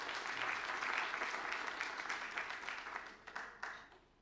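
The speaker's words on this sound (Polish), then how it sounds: "Także bardzo proszę, powitajmy oklaskami wszystkich." An audience applauds to welcome guests at the opening of a jubilee conference of a university department in Kraków, with dense, steady clapping that fills the room and slowly thins toward the end.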